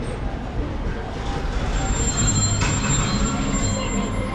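Theme park train rumbling into a station, a steady close rolling drone with a thin high wheel squeal running through it.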